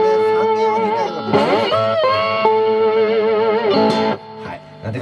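Slide guitar in open E tuning plays sustained, gliding notes with strong harmonics and a touch of effects and reverb, loud and alone with no talking.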